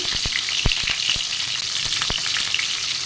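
Pointed gourd (potol) frying in hot oil, a loud steady sizzle with occasional sharp pops and crackles, no one speaking.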